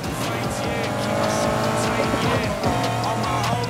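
A race car in Need for Speed Heat revs hard with a steady engine drone and bursts of squealing tires through the whole stretch, while voices talk over it.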